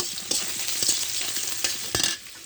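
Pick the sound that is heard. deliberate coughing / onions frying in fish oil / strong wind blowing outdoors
onions frying in fish oil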